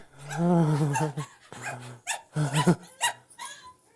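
A dog growling and barking up close, a long throaty growl followed by several short sharp barks and yelps, loud and alone.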